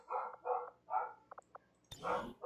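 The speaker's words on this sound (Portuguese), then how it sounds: "Por isso que o cachorro tá louco." A dog barking, roused by a garbage truck passing nearby; a quick series of four or five short, moderately distant barks with brief yips in between, and a voice joins at the end.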